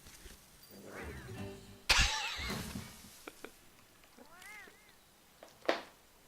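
Cartoonish cats in the video game Monster Hunter meow repeatedly, several rising-and-falling mews scattered through the clip, with a sharp clatter and brief game effects between them.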